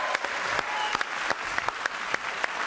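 A television studio audience applauds the introduction of Miss Pays de France 92 with a continuous wash of clapping and a few sharper individual claps standing out, moderately loud throughout.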